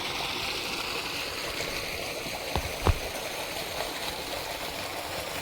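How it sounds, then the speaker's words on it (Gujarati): Irrigation water from a pump motor flowing into a farm field, a steady soft gurgling rush with a couple of faint knocks, no talking. "તમે આ જોઈ શકો છો કે તે આપણા ખેતરમાં પાણી ચાલુ થઈ ગયું છે."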